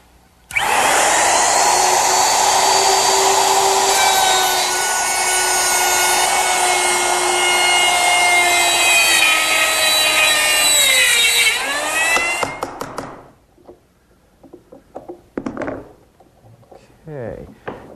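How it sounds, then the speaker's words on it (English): A router cuts oak dovetails in a dovetailing jig: a loud, steady high-pitched motor whine with cutting noise that winds down after about twelve seconds, followed by scattered knocks and handling sounds, with no talk. "And following the instructions with the jig, I'll cut the dovetails into 2 pieces."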